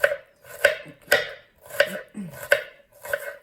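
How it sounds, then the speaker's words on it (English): A knife chops an onion into small squares on a cutting board at home, with about six crisp, evenly spaced strikes close by and a brief spoken word. "It's better to cut it up in little squares."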